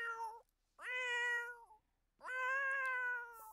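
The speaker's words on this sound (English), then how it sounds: "some loud ass cats" Cats in The Sims 4 meow loudly in three long drawn-out calls separated by short silences, close and clear with no talk.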